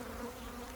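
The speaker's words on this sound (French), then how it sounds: "J'ai l'impression qu'il y avait une guêpe." A wasp buzzes near a beehive during an outdoor beekeeping session in Alviso, a steady close hum that holds without a break for under a second.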